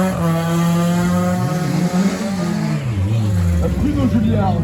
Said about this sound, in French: Bruno Julliard vient de s'élancer à son tour sous les couleurs de la Zadofinoise avec sa Peugeot 205 GTI